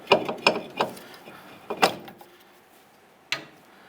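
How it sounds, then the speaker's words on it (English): Socket ratchet on a brake caliper bolt of a 2002-2007 Jeep Liberty, giving a few sharp clicking bursts in the first two seconds and one more lone click near the end, close and fairly quiet with no talk. "socket, you want to go ahead and remove this bolt here and repeat for the same up on the top."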